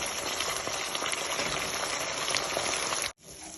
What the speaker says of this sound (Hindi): हम इसको थोड़ा सा और इसको ड्राई करेंगे, भूनेंगे